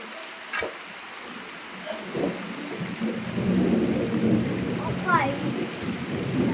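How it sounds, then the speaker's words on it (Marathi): Thunder rumbles low and rolling through a windy rainstorm, with steady rain spattering on surfaces. A few sharper cracks and drops stand out against the continuous wash of rain, and there is no clear talking. "विजांचा आवाज येत असेल तुम्हाला."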